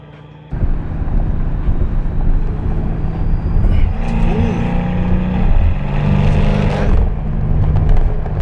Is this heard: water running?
no